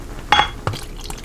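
Beer from two 12-ounce bottles pours out in two short glassy clinks and splashes, close and brief, with a quieter trickle afterward.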